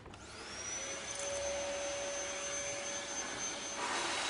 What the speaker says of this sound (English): Now we have the vacuum cleaner powered surfboard or sledge.